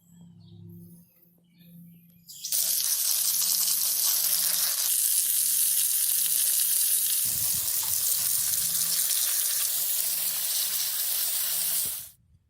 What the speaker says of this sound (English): let's rinse some of these things off and see what we got